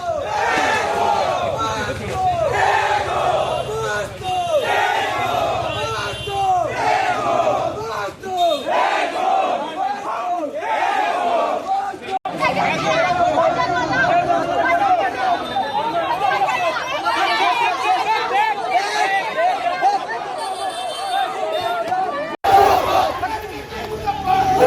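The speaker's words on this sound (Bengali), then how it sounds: "নানা স্লোগান দিয়ে কাঁপায় বিক্ষোভস্থল।" NSUI and Congress protesters besieging a police superintendent's office chant slogans in loud, rhythmic call-and-response shouts from a massed crowd, sustained and close, with a brief cut near the end.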